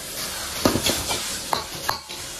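A spatula scrapes and taps through napa cabbage vegetable filling in a hot wok on high heat, a few close strokes over a steady sizzle.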